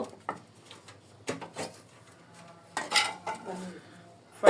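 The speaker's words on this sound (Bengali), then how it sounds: "এই সাইডে আমি ফ্রাই প্যানে বসিয়ে দিব" A frying pan being set on a stove while making chotpoti, a few sharp metallic clanks and light knocks spaced out over quiet kitchen background, close by, with no talking.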